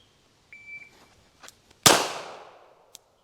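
A single sharp pistol shot from a Staccato CS handgun rings out on an open range and decays, with a few faint clicks and a brief tone before it and a small tap after.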